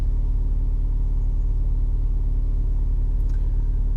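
A MINI F56S sits idling in neutral with the handbrake on after an oil change, giving a steady, close, even low rumble with no revving and no voices.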